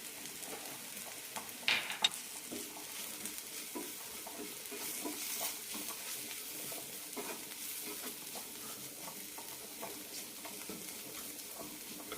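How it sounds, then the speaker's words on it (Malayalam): Spice masala fries with carrots in a pan, giving a faint, steady sizzle broken by soft scraping stirs and a couple of sharper utensil knocks early on, with no voices. "മസാല നന്നായി മൂപ്പിച്ചെടുക്കാം ഇനി ഇതിലേക്ക് കുറച്ച് ക്യാരറ്റ് കൂടി ഇടാം"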